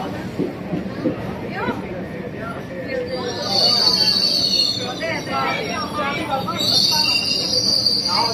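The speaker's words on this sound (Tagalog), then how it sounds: "Dito tayo maghihintay ng train." A train pulls into Riomaggiore station in Italy, with metallic wheel squeals rising over crowd chatter and nearby talking on the busy platform.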